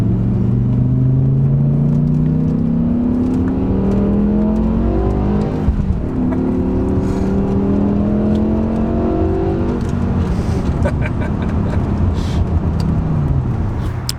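A BMW M6 with its V10 engine pulls hard through the gears, revs climbing in long rising sweeps with brief dips at each upshift, loud and continuous from inside the car, no talking.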